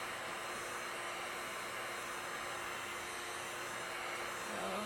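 A heat gun blows steadily on wooden furniture to dry it and remove ripples, making a continuous close hairdryer-like whoosh that stays even throughout without any speech.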